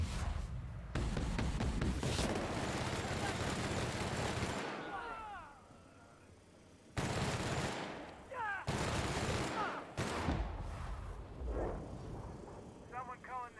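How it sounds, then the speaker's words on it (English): Gunfire rattles through a sci-fi shootout in the video game The Outer Worlds: loud, sustained bursts of rapid shots broken by short pauses, with voices talking between and over the volleys. "He's really shooting!"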